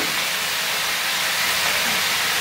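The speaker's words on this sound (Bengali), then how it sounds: "এইভাবে টমেটোটাকে ভেজে নেওয়ার পরে আমি এর সঙ্গে অ্যাড করে দিচ্ছি কেটে রাখা তরকারিগুলো" Cut vegetables added to frying tomatoes for a Kolkata-style chicken stew, a loud, steady, close sizzle of hot oil in the pan that fills the moment without pause, no voices heard.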